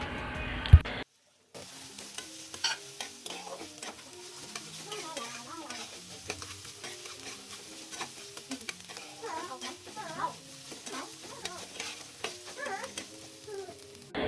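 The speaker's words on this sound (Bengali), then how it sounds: "এটাকেও আমরা এই আলু টালুর" Diced carrots and potatoes fry together in a pan, producing a soft, low sizzle broken by clinks and scrapes of stirring. The sound stays quiet and close, with a short gap near the start.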